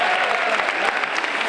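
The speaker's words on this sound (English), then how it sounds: "Usually seniors give a round of applause" A school senior assembly audience claps in a loud, dense burst of steady applause that fills the whole short moment.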